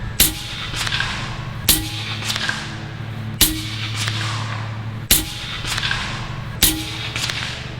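Five loud, sharp shots from a Bintac MCAR 457 big bore air rifle, spaced about every one and a half to two seconds, each a hard crack with a short decaying tail over a steady low background hum.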